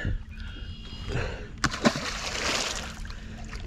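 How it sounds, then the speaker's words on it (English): A small caught fish, taken on nightcrawler bait, is tossed back, and a few close splashes and sloshing water sound over steady outdoor wash, with no talking. "I'm gonna give him a toss up here. Hopefully he land in the water pretty cool."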